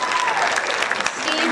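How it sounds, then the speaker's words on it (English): An audience at a high school jazz concert claps in steady, dense applause throughout, with a little crowd murmur mixed in. "Give him a round of applause"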